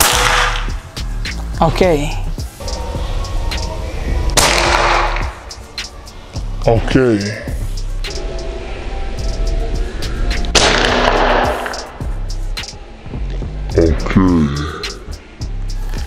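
Several sharp, loud shots from a Krypton Falcon PCP air rifle ring out at intervals, each a sudden burst, with a voice talking between them.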